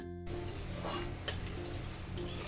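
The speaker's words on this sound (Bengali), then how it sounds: "পনিরগুলো দিয়ে আমি হালকা করে ভেজে নেব।" Paneer pieces frying in oil, a steady close sizzle with light stirring scrapes and one brief utensil clink partway through.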